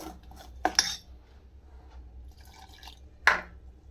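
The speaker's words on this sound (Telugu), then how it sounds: "మనం ఒక కప్పు వాటర్ అయితే వేసేసుకొని అంతా మిక్స్ చేసేద్దాము" Water poured into a bowl of curd and stirred, heard as a couple of sharp clinks of a utensil against the bowl, faint splashing liquid, then another clear clink, all close up with no talking.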